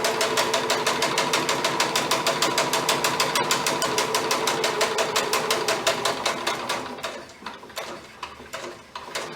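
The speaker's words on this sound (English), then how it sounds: "And then you sew." Sewing machine stitching elastic shirring rows into fabric, a fast steady run of rhythmic mechanical clatter that slows and becomes irregular near the end, close and loud with no talking.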